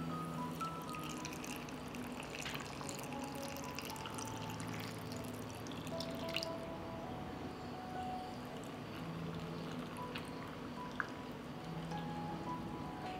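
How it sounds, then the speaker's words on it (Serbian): Water poured into glass jars filled with plums and sugar, a soft continuous pouring and trickling stream, faint and steady, with a few small clinks. "I sada ću u svaku teglu sipati vodu."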